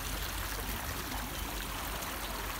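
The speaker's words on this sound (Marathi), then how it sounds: "आणि हे इकडून पाणी बाहेर येत आहे" Cool water flows out of a small stream beside natural hot springs at Rajwadi Sangameshwar in Konkan, a steady, close, even rush and trickle with no talk.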